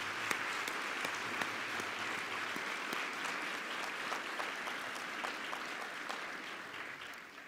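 A gala audience gives service members a sustained round of applause, a broad, even wash of many hands clapping, heard from a distance and fairly quiet, with a few sharper individual claps standing out.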